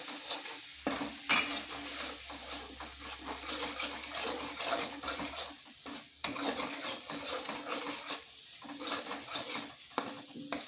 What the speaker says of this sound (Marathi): हे मसाले मी आता परतण्यासाठी टाकणार आहे हे मसालेसुद्धा तेल सुटेपर्यंत चांगले परतून घ्यायचे